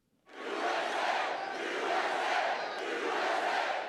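Energetic crowd at a Donald Trump campaign rally in a small South Carolina city, roaring and cheering loudly and continuously after a sudden start, with no talk over it.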